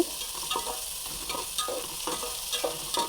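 Chopped onion, tomato and mixed vegetables being stirred in a hot pan, a steady close sizzle with rhythmic scraping strokes of a spatula repeating about every half second.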